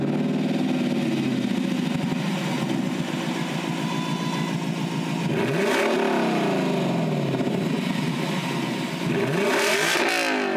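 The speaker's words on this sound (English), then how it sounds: "thanks to this 5-liter naturally aspirated V8. It makes 471 horsepower and 389 pound-feet of torque" 2022 Lexus LC 500 Convertible with a naturally aspirated 5-liter V8 revving close up, the engine note sweeping up and falling back in several sharp blips between steady idling.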